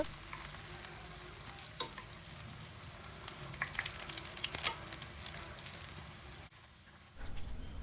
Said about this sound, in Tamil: இன்னொரு பாத்திரத்தில் ஃப்ரை பண்ணுறதுக்கு தேவையான அளவு எண்ணெய் விட்டுட்டு நல்லா சூடானதுக்கப்புறமா அடுப்பை சிம்மில் வச்சுட்டு ப்ரெட்டை சேர்த்துக்கோங்க